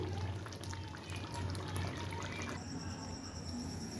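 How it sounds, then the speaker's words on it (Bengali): Gondhoraj chicken scraped and poured from a pan into a serving bowl makes a soft, continuous sliding pour with light scraping, quiet and close, over faint background hum. "এবার এটাকে সার্ভিং বলে ঝেড়ে নেব"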